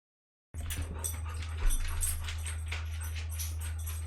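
Dogs pant and whimper with a steady low hum underneath, a few sharper yelps and whines rising over the continuous breathing noise throughout.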